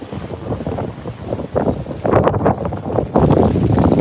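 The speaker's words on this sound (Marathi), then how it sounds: "एवढा जोरात वारा सुटला" Strong stormy wind gusting outdoors in Virar during a storm, loud buffeting roar with surging gusts and rumbling wind noise against the microphone, growing stronger toward the end.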